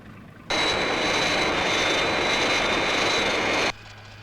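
A Fireflash jet airliner approaching the runway makes a steady, loud jet roar with a high whine that starts abruptly, holds for about three seconds and cuts off just as sharply.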